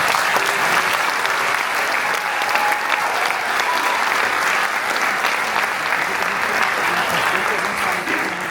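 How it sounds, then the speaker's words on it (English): Sustained applause from a crowd at a youth police academy graduation held by a county sheriff's office, a steady, dense wash of clapping that stays even and full for the whole stretch. "please give us one extra round of applause for our young men and women"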